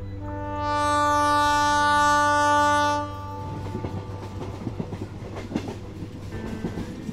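A train sound effect opens with a long, steady horn blast lasting a few seconds, then gives way to the rhythmic clatter and rattle of wheels running on rails.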